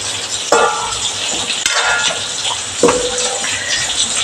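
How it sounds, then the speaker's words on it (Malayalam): Fish curry masala with green chillies is stirred in a pan, giving a steady loud sizzle with repeated scraping strokes and clinks of the spoon against the metal, close by and without voices. "അപ്പോൾ നമ്മൾ അതെല്ലാം കൂടി ഒന്ന് ഇളക്കി യോജിപ്പിച്ച് അതിൻ്റെ പച്ചമുളക് കളയുന്ന വരെ ഒന്ന് ഇളക്കി"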